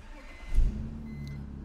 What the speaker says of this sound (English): Engine fires right up.